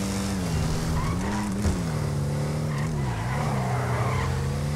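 Emperor Vectre sports car from GTA Online's Los Santos Tuners update, engine droning steadily at a rising and falling pitch as it drives, with tires skidding and sliding through corners, loud and continuous with no talk.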